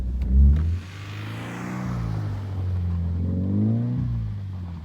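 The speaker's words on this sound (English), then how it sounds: "And you can hear the throttle." A car engine pulls under throttle while driving on winter roads, a steady close drone that rises and falls in pitch as the throttle is eased on and off, alone without talk.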